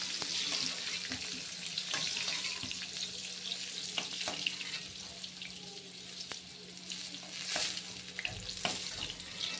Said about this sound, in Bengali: পটলগুলো ভাজা হয়ে গেছে, আমি একে একে সব তুলে নেব।